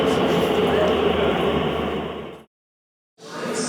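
Elizabeth line westbound train at Tottenham Court Road heading toward Bond Street, a steady loud underground rumble and roar for about two and a half seconds, then a brief cut to silence before the rumble resumes.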